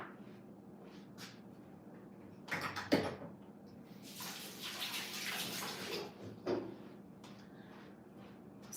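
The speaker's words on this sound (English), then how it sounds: "I'm gonna wash my hands" Hands washed under a running kitchen tap, heard as a close splashing rush of water that swells in the middle and fades out, with brief clatters around it.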